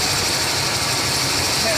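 A vehicle engine idles with its exhaust warmed up, a steady broadband hum and rumble that stays constant and fairly loud for the whole short stretch.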